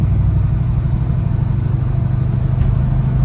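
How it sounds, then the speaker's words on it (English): A 1971 K10 truck fitted with Dynomax Super Turbo 17733 mufflers idles close by, giving a loud, steady, smooth low rumble throughout with no other sounds. "Nice smooth idle, no drone."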